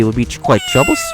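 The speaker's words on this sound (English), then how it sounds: "It sounded like a cat." A close, clear cat meow from the Phoenix Wright: Ace Attorney Justice for All video game, heard briefly at the end of a line of spoken dialogue.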